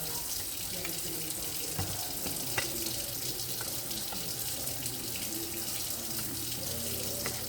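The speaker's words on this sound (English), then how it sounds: "So after I wash them off" Water pours steadily from a kitchen faucet into the sink while pork chops are rinsed, a continuous close splashing hiss with small clinks and shifts throughout.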